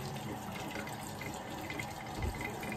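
A plastic cup is wetted under a running faucet before wet-dry sanding with 600-grit paper, giving a steady, close hiss of flowing water with a brief louder splash near the end.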